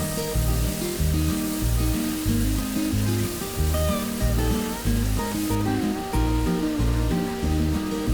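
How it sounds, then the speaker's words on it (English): Chopped onion, green chilies and spring onion whites fry in a pan with a steady, loud sizzle and crackle, over soft background music. "add 2 green chilies chopped, half cup spring onion white, and then fry it until the onion is nice and soft"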